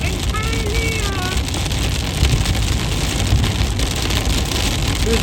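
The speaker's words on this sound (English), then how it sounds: "Driving through the rain in Hialeah." A car drives through heavy rain in Hialeah, Florida, a loud steady wash of rain and road spray with tire and engine rumble underneath, continuous throughout, with a brief voice early on.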